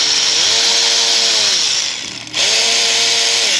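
A power tool drives bolts around the engine cover of a 2012 Chevrolet Avalanche 5.3, a loud close whine that holds steady, dips briefly, then picks up again.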